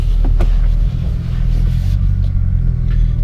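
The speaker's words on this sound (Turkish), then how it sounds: "Egzoz sesi manyak ya maşallah." A Mercedes C63 AMG on the move gives a loud, deep exhaust rumble that stays steady for a few seconds, close up, with no talking.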